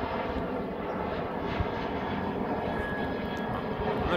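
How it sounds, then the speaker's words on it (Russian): Airplane passing overhead near Crete, a steady broadband engine roar and rumble that stays even and fairly loud throughout, with no talk. "Самолет летает."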